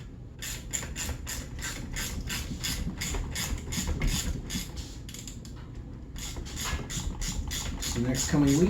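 A ratchet wrench works on the skid of a 2002 Arctic Cat ZR 800 snowmobile, giving close, rhythmic bursts of sharp clicking strokes with brief pauses between them.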